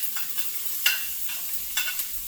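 Olive oil heats in pans on a wood stove, giving a soft, crackly sizzle broken by several sharp pops and spatters, close and fairly quiet.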